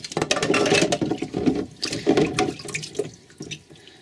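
Tap water runs in bursts over the parts of an Omega NC800 HDS 5th generation juicer as they are rinsed. The splashing is close and loud, then fades toward the end.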